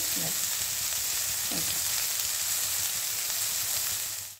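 Eggplant frying in a pan for Bengali shukto, a dense continuous sizzle with a couple of brief stirring knocks, steady until it cuts off at the end.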